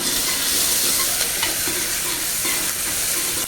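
Washed tomatoes drop into a hot frying pan for a tadka and sizzle loudly and steadily, with faint stirring scrapes under the continuous hiss.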